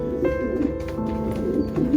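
Racing pigeons cooing in a loft, a steady low rolling coo repeating close by, with no talk over it.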